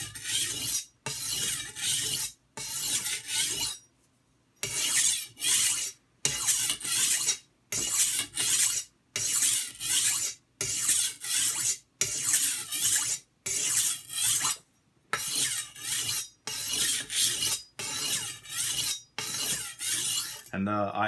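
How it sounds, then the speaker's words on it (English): A machete blade is drawn across an oiled sharpening stone in repeated rasping strokes, each about a second long with short pauses between, steady and close. "I put a little oil on the sharpening stone and I hold the blade at about a 22 degree angle"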